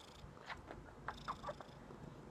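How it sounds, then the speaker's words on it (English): A pet cat purrs softly up close with a gentle, faint rhythmic rumble, punctuated by a few brief higher-pitched chirps. "I've been buried by a kitty cat."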